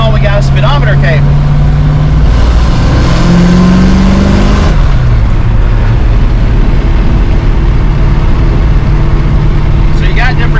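A car fitted with Holley Sniper 2 EFI and a TKX transmission cruises at about 45 mph, giving a steady, loud engine and road drone with a swell in the middle, while voices talk over it.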